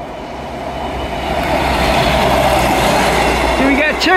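Train running along the seawall at Teignmouth, a loud, close, steady rumble building as it passes, with a brief horn toot near the end and voices faintly underneath.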